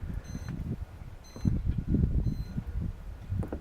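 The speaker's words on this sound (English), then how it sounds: "that was just my alarm going off because I got the lid off here" A grill's temperature alarm on a Napoleon Apollo cooker sounds short, faint high beeps in three quick bursts after the lid comes off baby back ribs, over low rumbling background noise.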